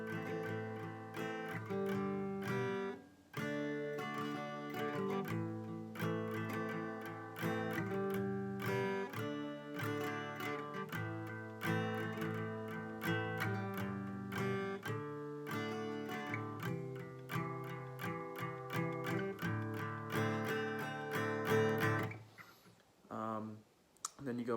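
An acoustic guitar plays the bridge of a song, with steady rhythmic strummed chords and percussive string clicks running continuously, close and even, a brief pause near the middle and a soft ending.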